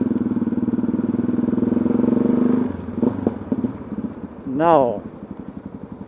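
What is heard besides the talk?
motorcycle exhaust noise while riding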